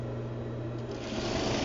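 A sewing machine stitching an upper collar and lapel, a steady close mechanical hum and rapid needle chatter running continuously and quietly without pause.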